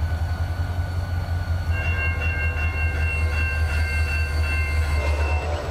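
A freight train hauling stone rolls in within the Transport Fever game, a heavy steady engine drone with rhythmic wheel clatter and bright tonal squeals joining partway through, close and continuous.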